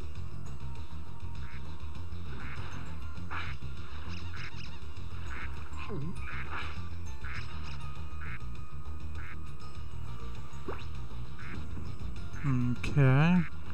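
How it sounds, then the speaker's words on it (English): Cartoonish ducks quack repeatedly in the Spyro video game, short honking calls recurring through a busy game soundtrack, with a louder, wavering burst near the end, and someone talks now and then. "And there were ducks down to the end here,"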